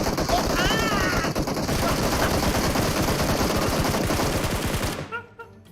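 Rapid bursts of automatic gunfire from PUBG Mobile, loud and sustained for about five seconds with voices talking over it, then cutting off abruptly into near quiet.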